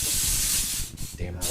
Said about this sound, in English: I'd start spraying.